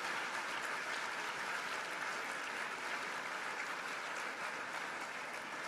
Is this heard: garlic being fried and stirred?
no